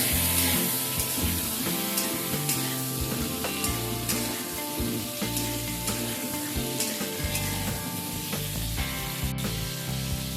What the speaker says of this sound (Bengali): এবার পটলগুলোকে ভেজে নেব।